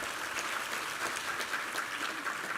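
A church congregation claps together during a Sunday worship service, a steady wash of applause filling the room from start to end without pause.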